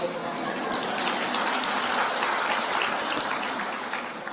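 A church audience gives sustained applause, a dense, even patter of clapping that holds steady throughout without a break.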